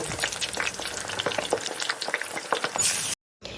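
Mustard paste masala with salt, turmeric and cumin powder sizzling in oil in a pan for shorshe ilish, a busy crackling fry with stirring scrapes, close and steady, then cutting off abruptly near the end.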